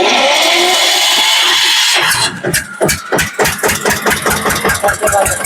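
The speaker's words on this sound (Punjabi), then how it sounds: "ਬੜਕ ਦੇਖੀ ਤੂੰ ਟਰੈਕਟਰ ਦੀ" A small, low-cost tractor engine cranks with a broad whirring rush, then catches about two seconds in and settles into a fast, even chugging idle, loud and close with no voices.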